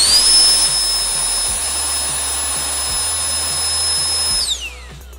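Handheld battery jet fan blower running at speed 3: a loud, steady turbine-like roar with a piercing whine held at a constant pitch, then a quick spin-down as it is switched off near the end.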